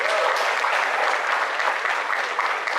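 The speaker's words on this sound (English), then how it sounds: "Can we give him a round of applause" Audience applause in a high school auditorium welcoming the next student speaker, dense and sustained at an even, loud level, with a few voices mixed in.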